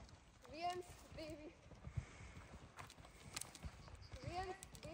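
Horse hooves walk with a soft clip-clop during a riding lesson, faint and irregular beneath a woman's spoken counting and instructions.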